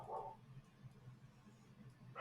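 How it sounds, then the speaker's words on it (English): Dogs barking inside a house, a few muffled barks and yips at modest loudness, with a louder bark at the start and another at the end, over quiet room background. "My dogs are going nuts."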